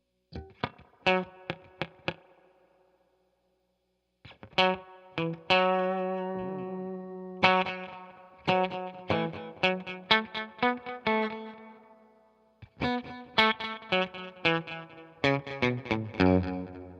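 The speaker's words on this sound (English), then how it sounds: "when the delays come in, they're just barely off from each other" Electric guitar plays plucked notes and chords, first dry, then through a BOSS compact delay pedal set short, doubling each note into a thicker, slightly smeared echo.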